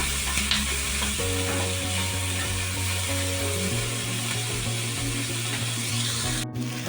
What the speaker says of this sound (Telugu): ఇలా 2 నిమిషాలు ఫ్రై చేస్తాం.